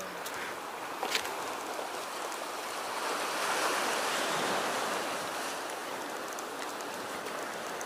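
Waves breaking and washing up on an East Sea beach along the Gangwon coast, a steady broad surf roar that swells in the middle, with a faint click near the start and no talk.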